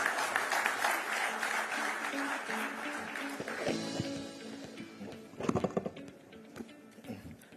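A conference audience claps to welcome a minister at an energy development event, with steady dense applause that thins out toward the end as a few scattered claps linger.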